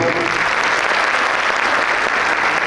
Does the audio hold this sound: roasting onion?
no